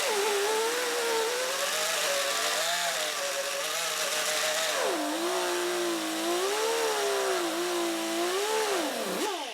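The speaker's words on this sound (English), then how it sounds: "When you're buffing those outside edges and you have plastic binding, you do not want to pause when you're buffing." A rotary buffing tool whirs steadily while polishing guitar frets on a Gibson guitar with plastic binding, its pitch wavering as it moves along the fret edges, loud and close throughout.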